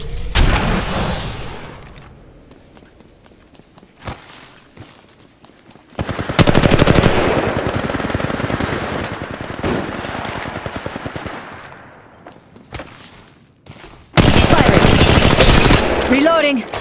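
Bursts of automatic gunfire from the Apex Legends Mobile video game, several loud rapid volleys separated by quieter stretches with isolated single shots and faint in-game sounds.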